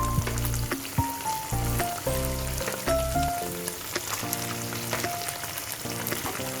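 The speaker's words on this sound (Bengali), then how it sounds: "চিকেনগুলো এক এক করে ছাড়তে থাকো" Chicken drumsticks are added to a pan of soy and tomato sauce and fry with a continuous bubbling sizzle, while tonal music plays prominently over the cooking.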